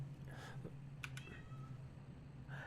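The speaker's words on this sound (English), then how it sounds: "did you hear that go meow" A faint cat meow breaks through a steady low electronic hum during a Microsoft Flight Simulator 2024 session in an Airbus cockpit, with a few light clicks nearby.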